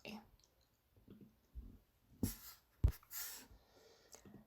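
A few soft computer mouse clicks land sparsely in a quiet room, with faint breathing and small rustles between them.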